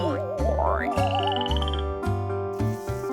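Cartoonish frog croaks pulse in a regular rhythm over playful music, with warbling whistle-like tones sliding above them.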